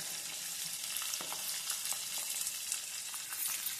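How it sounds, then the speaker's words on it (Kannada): Chopped onions fry in a hot pan in a home kitchen, giving a steady, close hiss and sizzle with faint crackles and occasional stirring scrapes throughout, and no voices. "ಆಮೇಲೆ ಈರುಳ್ಳಿಯನ್ನು ಹಾಕ್ತಾ ಇದ್ದೇನೆ."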